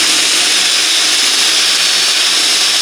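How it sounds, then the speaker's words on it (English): A power drill on its slowest speed whirs steadily at a low, even speed while sharpening lawn mower blades, close and continuous with no pauses. "Now I'm just running this drill on the slowest speed."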